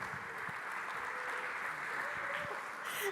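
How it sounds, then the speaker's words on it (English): Conference audience applauding as a speaker is brought to the stage at a fab education and learning event, a steady dense wash of clapping throughout, with a faint tonal hum underneath. "So please give a round of applause."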